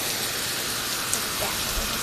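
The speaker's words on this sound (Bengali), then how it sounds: "সুন্দর একটা বৃষ্টি জোরে হইতেছে কিন্তু গাইস।" Heavy rain falls steadily as a dense, even hiss with no break across the short stretch.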